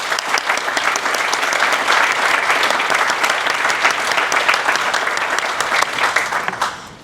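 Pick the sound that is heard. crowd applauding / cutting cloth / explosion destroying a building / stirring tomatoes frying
crowd applauding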